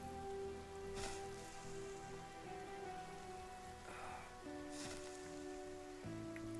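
Steady rain patters across the ground in the video game Project Zomboid, a constant wash of drops with faint tonal ambience running beneath it and no voices.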